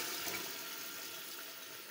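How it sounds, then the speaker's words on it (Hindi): Meat stock (yakhni) pours into a pot of spiced beef pulao, a soft continuous watery rush close by with no talk over it. "ये यखनी डालूंगी।"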